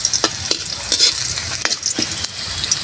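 Garlic and onion sauté in a hot pan, giving a close, loud sizzle broken by sharp scraping stirs of a utensil against the pan at irregular intervals.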